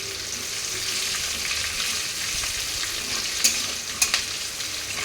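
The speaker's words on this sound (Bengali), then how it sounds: "শুকনো লঙ্কা, জিরে, 5 ফোড়ন। এটাকে কিছুক্ষণ নাড়াচাড়া করে নিতে হবে।" Dried red chillies, cumin and five-spice seeds frying in hot oil while being stirred: a steady, soft sizzle throughout, with a few sharp utensil clicks near the end and no talk.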